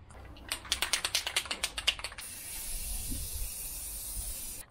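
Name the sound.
spraying metal spray paint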